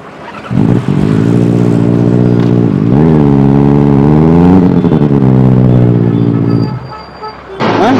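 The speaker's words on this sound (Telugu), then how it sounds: "ఈ స్పోర్ట్స్ బైక్ అన్న" A sports bike engine runs loud and close, holding a steady throbbing idle, revving higher midway, then dropping off, with a short sharp noise at the very end.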